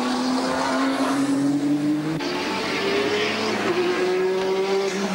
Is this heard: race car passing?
yes